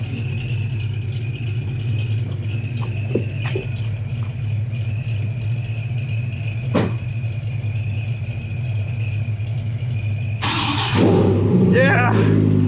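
A Foxbody Ford Mustang with a long-dead, heat-worn battery idles with a steady low rumble, then bursts into a louder rev near the end, while voices talk nearby.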